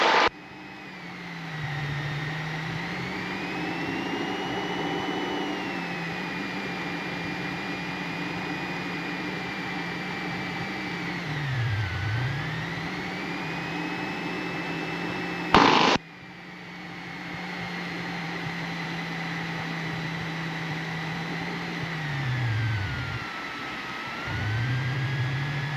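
A small airplane's engine running steadily while taxiing during landing practice, heard from inside the cockpit as a constant drone whose pitch dips briefly a couple of times, with a short click partway through and no talking.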